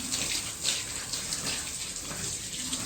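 Steady stream of water splashing while a wall is washed down in a village home, a continuous hissing gush at close range with no talk over it.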